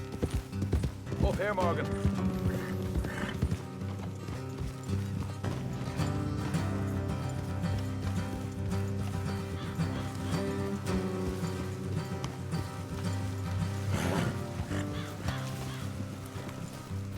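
Horses trotting with a steady clip-clop of hooves while riding in Red Dead Redemption 2, heard under a musical score and ambient rain, with a voice speaking briefly near the start.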